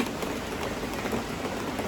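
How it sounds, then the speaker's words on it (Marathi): Heavy rain falls without a break, a dense, even hiss of drops hitting surfaces close by. There is no talking. "हा पाऊस काय थांबायचं नावच घेत नाहीये."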